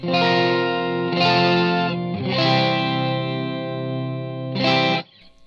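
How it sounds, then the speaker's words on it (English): Sustained guitar chords through an Electro-Harmonix Pitch Fork polyphonic pitch shifter, layered with shifted voices, thick and organ-like, played in several long swells with a short tail at the end. "as you walk the blend up, that gets more like a choir or like an organ."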